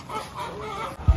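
Chickens cluck on a Ghanaian poultry farm housing thousands of birds, a dense, close chorus of clucking with a low thump at the very end.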